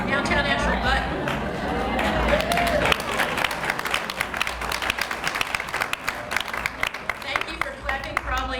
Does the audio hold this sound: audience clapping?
yes